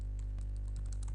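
A computer keyboard is typed on to enter a comment in a VBA macro, giving a quick, quiet run of a dozen or so light key clicks with no talking.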